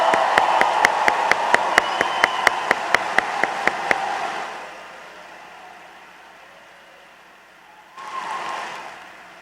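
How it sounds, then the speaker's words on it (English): An audience applauds a graduating class at a Sacred Heart Cathedral Prep graduation ceremony. The clapping is dense and steady with a regular beat, fades away after a few seconds, then a shorter burst of clapping returns near the end. "Let's give them a rousing round of applause."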